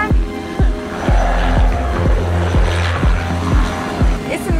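A helicopter flies close to a racing sailboat during the Melbourne to Hobart Westcoaster race, off a windy coast. Its heavy rotor thumps come in a steady, loud rhythm over wind and water noise.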